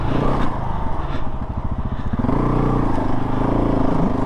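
A modified KTM 690 Enduro motorcycle rides off-road, its single-cylinder engine loud and close with a steady, throbbing, pulsing drone that shifts slightly as it pulls.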